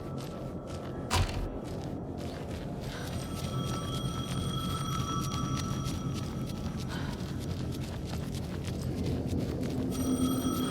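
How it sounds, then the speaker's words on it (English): A telephone rings in Alan Wake 2: bursts of a bright electronic ring in the middle of the stretch and again at the end, heard over a dark, steady ambient rumble with no talking. "The phone again."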